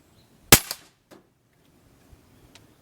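A single sharp, loud shot from a customized .22 Benjamin Marauder-style air rifle with a brief echo, followed by a faint distant impact and quiet.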